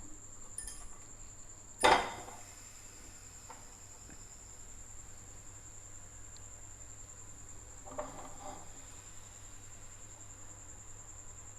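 A metal kadai wok set onto a kitchen stove lands with one sharp clank, followed by a faint second clatter, in an otherwise quiet room with a steady background hum.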